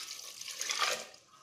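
Water is poured into masoor dal with chilli powder, turmeric, coriander powder and salt, a short close splashing pour that builds and then tapers off, with no talking.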